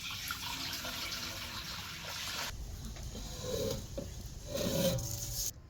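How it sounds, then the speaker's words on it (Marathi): Water pours into a metal cooking pot with a steady, close splashing rush, then eases off into quieter trickles and light knocks, for boiling amla. "पातेलं ठेवलं थोडस पाणी वतायचं"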